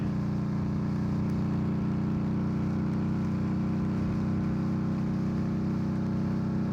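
An Indian Scout motorcycle engine drones steadily while riding, a loud, continuous low rumble with wind-like noise and no break throughout.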